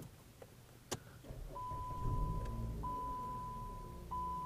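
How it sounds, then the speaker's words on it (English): A 2014 Dodge Avenger engine starting by remote key fob: a couple of clicks, then the engine cranks and settles into a steady idle while a repeating chime sounds over it. "And it starts the vehicle."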